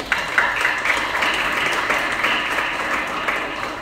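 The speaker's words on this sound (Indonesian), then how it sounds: "Tepuk tangan buat Bapa dan Mama" A church congregation claps steadily for a few seconds during a Sunday service, a dense patter of applause at moderate volume with no voices over it.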